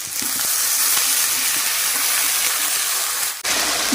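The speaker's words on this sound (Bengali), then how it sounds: "মশলাটা যাতে পুড়ে না যায় এর জন্য এর মধ্যে একটু সামান্য জল দিয়ে দিচ্ছি।" Steady loud sizzling and bubbling as a little water hits a frying garlic and cashew spice paste in hot oil, a continuous close hiss lasting throughout with a brief dip near the end.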